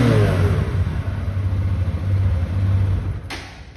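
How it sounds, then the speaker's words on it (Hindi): A 2023 TVS Apache 160 2V motorcycle in matte blue revs its engine up close, a loud, rough exhaust note rising and holding before it drops away and fades toward idle. "एक बार आपको हम एग्जॉस्ट जो है वो सुना देते हैं"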